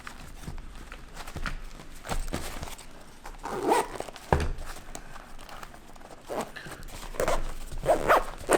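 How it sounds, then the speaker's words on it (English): A zipper closes an everyday-carry emergency kit bag in several short, rasping pulls, close and fairly quiet, mixed with handling rustles and no speech. "Zip it all back up."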